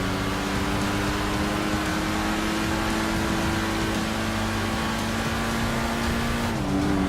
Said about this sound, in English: Lots and lots of noise coming from the engine there, that beautiful V12 engine